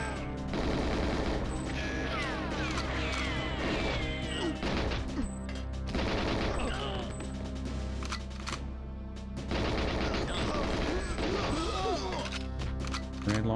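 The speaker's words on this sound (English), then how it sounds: "Grenade launcher." Grenade launcher firing in the 1997 video game GoldenEye 007, its blasts and crashes packed into a loud, continuous wall of game music and gunfire.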